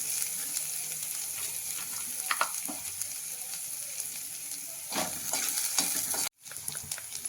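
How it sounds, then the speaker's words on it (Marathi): Sesame-coconut masala paste with coriander sizzles steadily in oil as it is sautéed for a chakvat greens dish, a soft continuous frying hiss with occasional stirring scrapes and a brief dropout near the end. "आणि हा मसाला सगळा छान परतून घेणार आहोत आपण"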